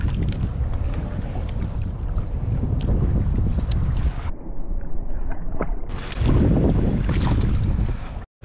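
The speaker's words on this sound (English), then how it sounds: "Out here, we've got wind against current." Wind blows hard across open water aboard an offshore fishing boat, with wind running against the current. Strong gusty buffeting and rushing noise fill the clip, dropping briefly in the middle before surging back.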